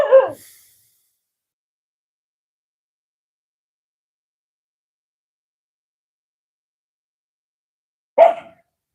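A dog barks twice during a morning yoga session: one sharp bark at the start, then long silence, then a second close, loud bark near the end.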